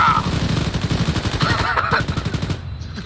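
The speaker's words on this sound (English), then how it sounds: "Gunners, you need to all sporadically fire it now!" Machine gun fire in a multiplayer military simulation video game, rapid close bursts of automatic shots over about three seconds, cutting off near the end.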